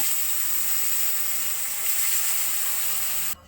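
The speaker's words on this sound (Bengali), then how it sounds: "কড়াইতে তেল দিয়ে এবার এক এক করে মাছগুলো আমি ভেজে নেব" Fish fries in oil with a steady, close sizzle that swells slightly midway before cutting off abruptly near the end.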